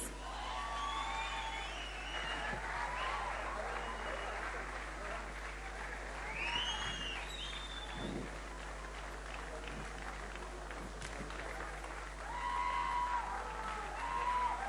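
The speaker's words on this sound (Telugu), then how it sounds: "సో క్లాప్స్ తో మీరు ఎంకరేజ్ చేయాలి ప్లీజ్" Audience applause at the audio launch event for the film Josh, a steady crowd clapping with some cheering and whoops that swells near the end, continuous throughout.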